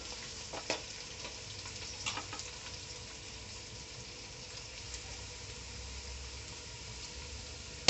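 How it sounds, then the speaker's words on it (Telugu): Curry leaves frying in oil in a pan for drumstick chutney, giving a soft, steady sizzle with occasional small pops and crackles, faint and continuous, with no talking. "బాగా రంగు మారేంత వరకు వేపుకోవాలండి"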